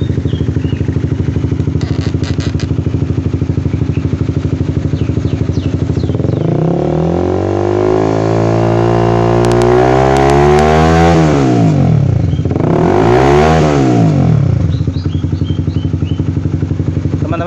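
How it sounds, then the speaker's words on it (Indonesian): A Honda CBR 150R motorcycle engine idles close by, then revs hard toward about 5000 RPM in one long climb and fall before a second, shorter rev and a return to idle. The engine is loud and steady, with no voices over it. "Ini saya gas yang kenceng Mas Bro di 5000 RPM-an"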